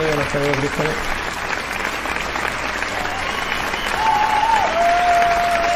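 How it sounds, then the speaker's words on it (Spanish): Steady applause fills the clip, a dense wash of clapping with a few voices and tonal sounds briefly over it. "aplauso, aplauso, aplauso."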